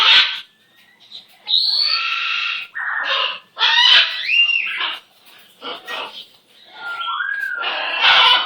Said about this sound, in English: I just love that little bird.